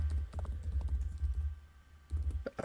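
Light, irregular clicking of typing on a computer keyboard, soft and close, with a short pause before a final flurry of keystrokes.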